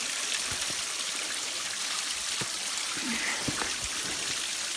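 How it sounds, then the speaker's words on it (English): Fresh spring water runs straight out of a mountainside near a road, a steady broadband rushing stream with scattered splashes and drips, fairly close and continuous throughout, no voices. "That's fresh spring water there, coming straight out of this mountain."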